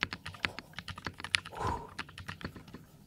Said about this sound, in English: I'm gonna do a little typing test.